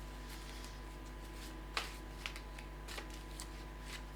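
Tarot cards shuffled by hand, a steady soft papery riffle with a few sharper snaps from an old, worn deck, close up and alone against a low steady hum.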